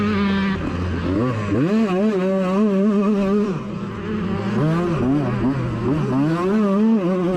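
33-year-old Honda CR125 two-stroke motocross bikes racing bar to bar, their high engines revving and rising and falling in pitch as they pass close and loud, with no other sounds over them.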